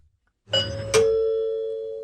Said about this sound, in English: I then hear my doorbell ring.